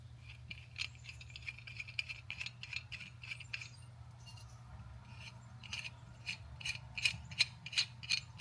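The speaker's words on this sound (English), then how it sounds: "That little threaded piece, that's going to thread into this piece." A threaded metal part of a vintage lamp is screwed into the lamp base by hand, giving quiet ratcheting clicks and scraping in irregular bursts over a low hum, with no voices.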